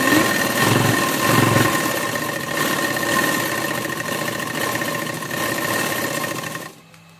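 A sewing machine stitches burqa fabric with a steady, close, mechanical whirr, broken by a few brief pauses and changes in speed, and it winds down just before the end.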